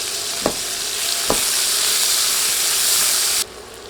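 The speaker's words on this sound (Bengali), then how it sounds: "এবার নেড়ে নেড়ে পেঁয়াজ ভেজে নিচ্ছি" Two chopped onions fry in hot oil for a fish and cauliflower curry, giving a loud, steady sizzle with two sharp spatula scrapes early on, then the hiss drops off abruptly near the end.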